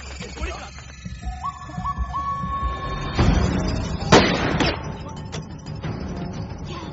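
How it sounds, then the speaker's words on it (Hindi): Gunfire rings out in a Hindi movie scene, with a few sharp, loud bangs in the middle of the passage, set against sustained tonal sounds and other background noise. "दूसरी तरफ से भी गोलियां बरस रही है।"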